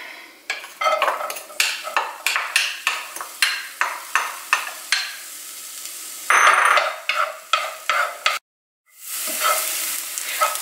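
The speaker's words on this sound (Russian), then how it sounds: "на среднем огне будем жарить лук до золотистого цвета" Onions frying in oil over medium heat in a pan, a continuous loud sizzle broken by a regular series of stirring scrapes, then a brief cut to silence before the sizzling resumes.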